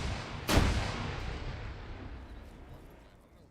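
A training grenade detonates with a single sharp boom at a distance, its rumble rolling out and fading slowly over a few seconds.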